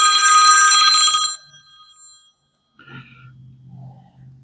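A telephone bell rings loudly for just over a second before cutting off abruptly, followed by quiet garage room noise and a few soft rustles and murmurs.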